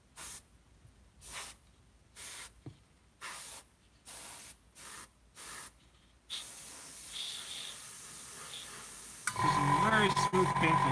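Airbrush spraying model air color paint on a scale model kit, a series of short bursts of hiss separated by pauses, then a longer continuous spray that grows louder near the end.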